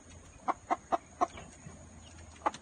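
A black-meated silkie chicken clucks in short, soft bursts, five quick clucks spaced evenly then a pause and one more, close by with quiet background.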